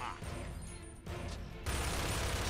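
Bursts of gunfire in Gears of War 2, a rattling volley of shots that drops away briefly near the middle, then returns heavier and louder in a dense, sustained barrage.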